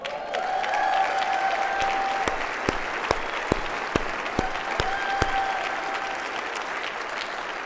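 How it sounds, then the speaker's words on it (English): A conference plenary session audience claps steadily and warmly for several seconds, dense applause with a few sharper individual claps standing out. "let's give a big round of applause"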